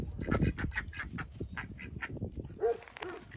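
Farm ducks quack in a busy series of nasal calls close by, one after another with little pause, ending in a rougher honking call.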